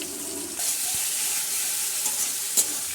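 Chicken coated in soy sauce and a little vinegar sizzles steadily in a pan with onions, with a spoon stirring now and then and a sharp clink near the end, close and fairly loud, without talk.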